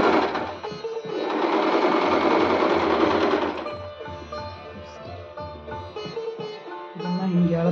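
A sewing machine stitches a satin scrunchie with a steady, fast whirring hum that runs loudly at first, then drops to a slower, softer mechanical chatter. No one speaks.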